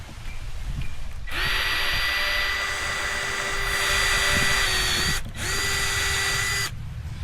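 A power drill whines at high speed for several seconds, briefly stops, then spins up again for a shorter burst, close and loud.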